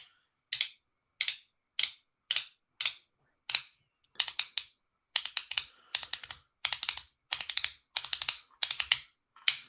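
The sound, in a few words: clicky clacking EDC fidget coins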